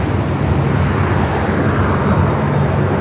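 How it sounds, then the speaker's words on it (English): A Korean Air A380 airliner arriving at LAX gives a loud, steady broadband jet roar with a low rumble that holds throughout, no voices over it. "Next A380 arrival here on the north side."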